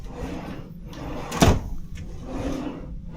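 A cabin drawer on an MSC cruise ship slides out and back, with one sharp wooden knock at the close standing out clearly against quiet room tone.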